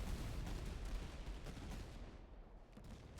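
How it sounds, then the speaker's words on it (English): Cannon fire in the video game Master of Command rolls on as a dense, continuous battle roar of overlapping booms and crackling gunfire, loud and unbroken. "my cannons are just absolutely tearing them to shreds"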